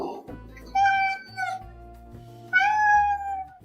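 Two drawn-out, clear meows from a house cat, the second rising and louder, both close to the microphone and heard alone, with no talking over them.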